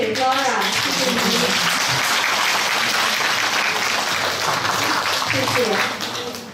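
Sustained, loud audience applause fills a hall at a Yue opera exchange performance, steady clapping from many hands that begins under a host's speaking voice and fades near the end.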